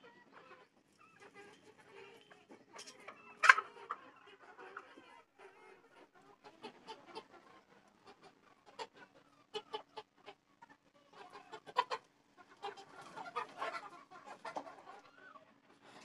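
Chickens in a rooftop garden cluck in short scattered bursts, near but quiet, with one sharper squawk early and a busier flurry of clucks toward the end over a hushed background.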